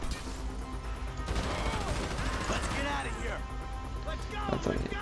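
Bursts of gunfire in the Grand Theft Auto V video game, with rapid shots and crashes over busy game noise, loud and continuous, while someone talks over the action.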